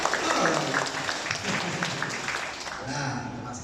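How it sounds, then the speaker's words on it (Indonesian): Applause from a startup-event audience in Makassar for the NextDev program, a brief burst of clapping that starts strong and thins out, with voices talking over it. "tepuk tangan dong untuk NextDev sekali lagi"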